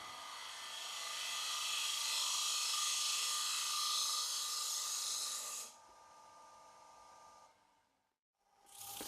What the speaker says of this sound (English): We can now turn the head to shear cut position to achieve that near perfect finish straight off the tool.